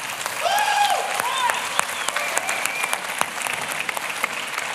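Audience applause at the 2012 Slush event for the Jolla team after the Sailfish OS launch, a steady wash of many hands clapping with scattered cheers and whoops rising over it, filling a large hall.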